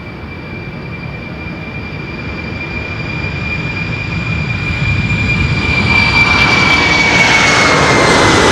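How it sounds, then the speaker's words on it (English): A Boeing 747-400 freighter roars on its takeoff run from Amsterdam Schiphol's Polderbaan runway, a loud, steady jet rumble that swells gradually as it powers up, with a rising engine whine and no voices. "747-400 freighter, Bravo 1340"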